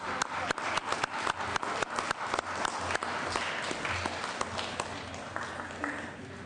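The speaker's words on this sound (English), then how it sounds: "Let's give them a round of applause." Members and guests applaud on a state senate floor during a session, a few sharp claps at first building into steady, moderately loud clapping that carries through to the end.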